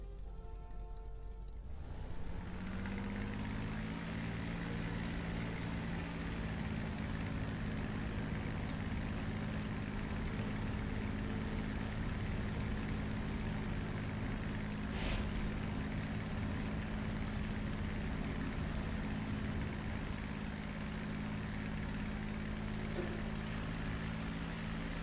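A War Thunder aircraft's propeller engine throttles up, rising quickly after a second or two into a loud, steady, droning roar with strong low harmonics that holds constant and close for the rest of the time.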